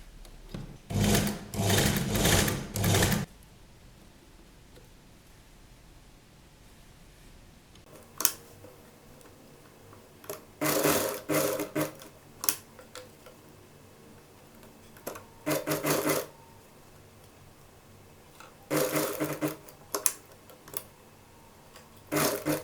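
A sewing machine stitching piping to fabric for a child's Patiala dress neckline runs in several separate short bursts of whirring, with quiet pauses between them and no talk.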